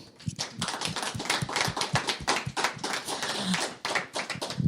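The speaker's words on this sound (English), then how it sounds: "So please give a round of applause." Applause from a small audience at a talk in a cultural center: scattered, uneven individual claps from a few people, close and sharp, rising and falling without a steady rhythm.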